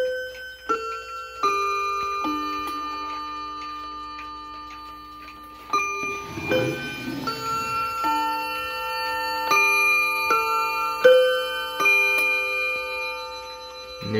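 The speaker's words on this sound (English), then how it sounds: "now I'll let you hear the chimes. It does all 4 quarters of Westminster." A Bulova ATO-MAT bracket clock plays Westminster quarter chimes, clear ringing tones sounding one after another, with a motor-driven mechanical whir partway through and the chime notes lingering and overlapping.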